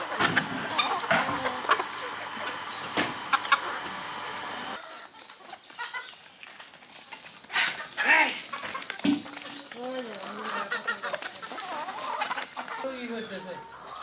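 Hens cluck on a rural village farm as they climb up to lay golden eggs, with a scatter of near clucks and squawks over background clatter and a voice talking at times.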